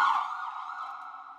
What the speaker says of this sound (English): And that's our siren.